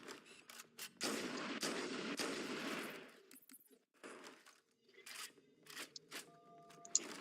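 Gunfire in the video game Mangler Mythic Quest 4, dense sustained shots for a couple of seconds, then sparser sharp bursts, moderately loud with no talk.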